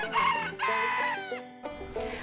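A rooster at a farm animal sanctuary crows close and clear, a drawn-out call followed by a second crow and a few clucks, with no talk.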